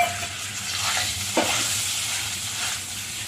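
Potato paste with curry leaves and turmeric frying in a pan, a continuous close sizzle with a brief stirring scrape midway, no talking.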